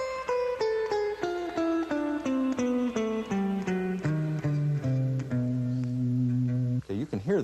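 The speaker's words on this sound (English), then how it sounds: "It's a little melody that descends down the guitar" A guitar plays a descending jazz blues turnaround melody, single plucked notes stepping steadily downward before settling into a few held low notes, close and moderately loud, with a brief scrape near the end.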